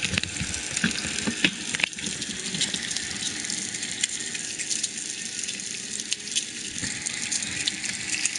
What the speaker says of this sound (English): Making some bacon, egg, and cheese sandwiches